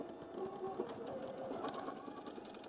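A sewing machine runs steadily as it stitches quilt-block seams along a half-inch guide line, a continuous close whirring and rapid needle clatter with no talk.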